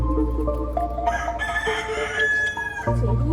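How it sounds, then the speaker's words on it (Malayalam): A rooster crows close by at a farm nature resort, one long drawn-out call that rises and falls. It sounds alone, with no talk over it. "കോഴിയുണ്ട് അതിനിടയ്ക്ക്."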